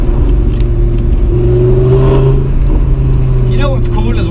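An Audi R8 V10 Plus with its 5.2 litre V10 drones loudly from inside the cabin, its engine tone rising steadily as it revs under a heavy low rumble.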